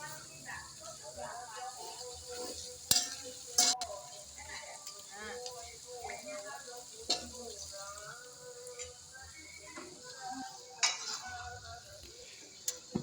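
Green chili jengkol sambal being stirred in a pan, with scraping and clinking of a utensil against the pan over a soft sizzle, including a few sharp metallic knocks.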